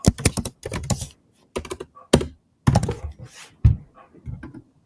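Bursts of fast clicking on a computer keyboard while a simple Angular website is being coded, the keystrokes close and clear in uneven clusters with short pauses between them.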